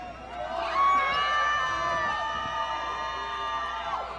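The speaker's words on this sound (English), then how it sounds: "The louder you cheer, the harder they fight." Crowd cheering and whooping at a women's MMA fight, a sustained roar of many voices with shouts rising above it, loud and steady throughout.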